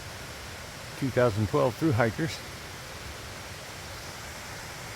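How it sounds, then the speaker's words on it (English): A steady broadband rush of water from an 80-foot waterfall near a campsite on the Foothills Trail, a constant distant roar with someone briefly talking over it. "an 80-foot waterfall, like right over that horizon"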